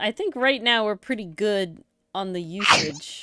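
People talk, and after a short pause a sharp, burst-like sneeze breaks through near the end before the talking resumes.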